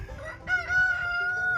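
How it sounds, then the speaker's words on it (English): A pet chicken clucks and crows nearby, a short loud burst standing alone over faint background noise in a garage where a truck engine is being repaired. "Can you hear my chicken?"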